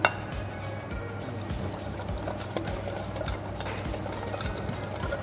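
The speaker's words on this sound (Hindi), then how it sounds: "उसके बाद इसको अच्छे से मिक्सर से फेंट के" An electric mixer grinder whirs steadily as it blends a masala paste of spices, kitchen king, coriander powder and salt, with a continuous buzzing drone, light rattling and a faint liquid churn throughout.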